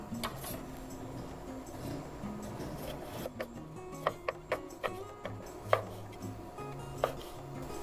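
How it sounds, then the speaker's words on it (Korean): A knife quartering jujube cherry tomatoes on a cutting board while making cold pasta: quiet kitchen hum at first, then a run of crisp, separate chops about every half second, close and fairly loud. "자, 그 다음은 대추방울토마토 4등분으로 썰어주도록 하겠습니다"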